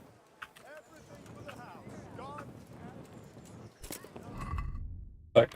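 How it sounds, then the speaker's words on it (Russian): A horse whinnies and snorts in the medieval video game Kingdom Come: Deliverance, with a few hoof steps and a sharp loud burst near the end, all without any talk. "А что тут лошадь рацика делает?"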